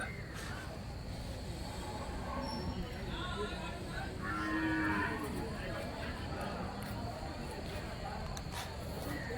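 Heifer calves are gathered at a busy cattle market in Santhipuram, Andhra Pradesh, with moos rising from a constant crowd murmur and people talking throughout, the animals heard at a moderate distance.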